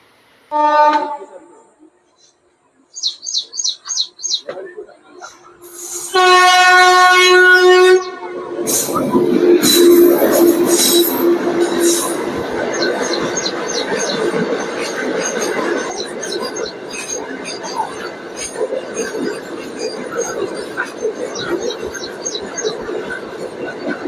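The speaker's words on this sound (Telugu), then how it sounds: "గేట్ పడ్డది, ట్రైన్ వస్తున్నట్టుంది" At a railway level crossing with the gate down, a train horn sounds, then a loud train rumbles and clatters past close by for a long stretch, with squealing wheels and a warning bell.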